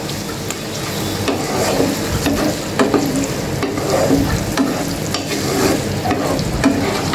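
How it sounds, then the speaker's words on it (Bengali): Chicken pieces fry in a pan for Sylheti akhni polao, giving a steady, dense sizzle with repeated scrapes and clinks of stirring throughout, fairly loud and close, with no talking. "এবার আমি চিকেনটাও সুন্দর করে ভেজে নেব"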